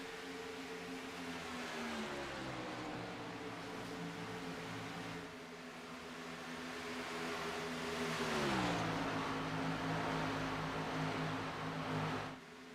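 Race cars at speed on the Michigan oval, a sustained engine whine that holds steady, then dips in pitch and swells louder as a car passes, with no talk.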